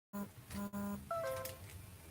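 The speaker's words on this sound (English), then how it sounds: "Sorry about the noise on my phone." A phone sounds a lightning-warning alert, with a few short repeated tones followed by higher-pitched beeps, fairly quiet against a kitchen background.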